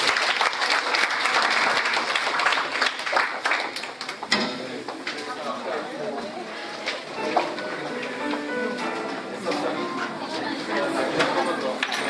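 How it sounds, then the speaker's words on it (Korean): Church seminar audience applauding the pastors, dense steady clapping that thins partway through while scattered voices carry on underneath. "목사님 모두에게 박수하고 박수하겠습니다"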